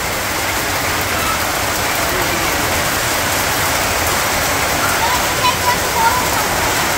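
Steady, dense rain hisses continuously with no break, loud and close, like a heavy downpour drumming on surfaces all around.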